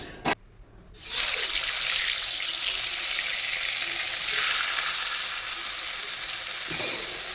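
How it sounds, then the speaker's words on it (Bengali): Fish frying in a pan at home gives a steady, fairly loud sizzle that runs continuously after a brief clatter and a moment of near silence at the start, with no talking. "মাছ ভাজা বসিয়ে দিলাম তো মাছটা ভাজা হোক"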